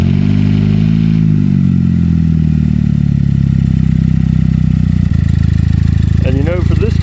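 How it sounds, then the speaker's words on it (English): A Pontiac Solstice GXP engine rumbles loud and deep, idling close by with a raw, unmuffled straight-dump exhaust tone, holding steady before briefly changing pitch near the end. "Now we can finally start it up and y'all can hear that great exhaust with the straight dump"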